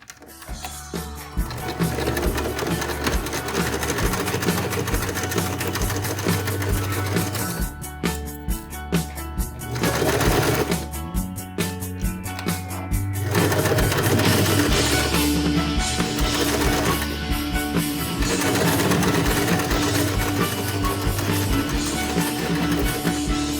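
A sewing machine fitted with a zipper foot stitches a fabric wallet, running in long busy mechanical stretches with brief pauses and rattling, clicking motor texture throughout.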